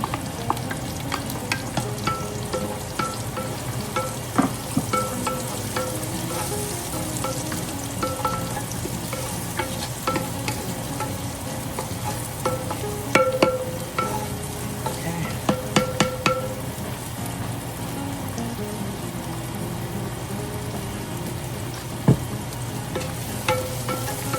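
Garlic frying in a clay palayok pot for pochero, with a steady low sizzle and occasional stirring clicks and scrapes, close and moderately quiet throughout.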